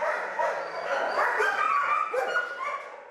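Dogs at an animal shelter bark, yip and whimper in an overlapping chorus, loud and close, with a continuous jumble of high-pitched calls throughout.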